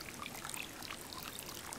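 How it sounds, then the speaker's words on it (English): A waterfall in the video game Birthdays The Beginning gives a steady, even rush of pouring water that runs unbroken and fairly quiet throughout, with no voices. "it's a bit close to the waterfall there, making a bit of a noise"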